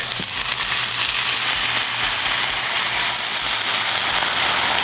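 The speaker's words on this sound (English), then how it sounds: "Now in with our stock." Liquid stock hits a hot pan of garlic, mushrooms and sun-dried tomatoes, giving a loud, continuous hiss and sizzle that stays steady and close throughout, with no voices.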